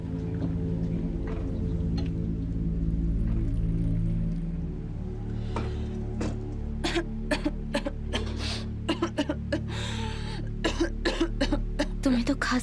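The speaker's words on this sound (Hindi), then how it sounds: "तुम्हें तो खांसी आ रही है।" A person coughs repeatedly in a drama scene, several sharp harsh coughs in irregular bursts over a low steady hum in the second half, close and fairly loud.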